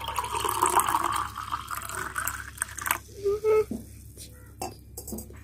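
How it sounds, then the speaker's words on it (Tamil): Water poured into pomegranate syrup juice in a tumbler, a splashing fill followed by stirring and small clinks, heard close up. "தண்ணி ஆட் பண்ணிக்கலாம்."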